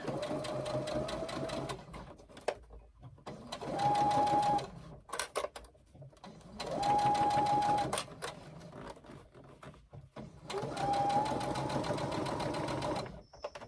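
A sewing machine stitches around a pocket in three long, steady runs of rapid mechanical whirring, close and loud, separated by short quiet pauses with small handling noises.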